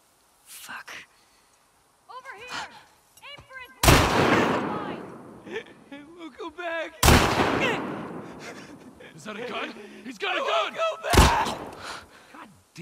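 Loud, sharp gunshots from the video game The Last of Us Part 2, three heavy blasts spaced a few seconds apart, with in-game voices talking between them.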